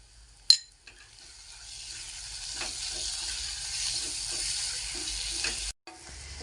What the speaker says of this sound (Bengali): বাটারের মধ্যে কাজু, কিশমিশ, পোস্ত 1 মিনিটের মতো কষে নিয়েছি।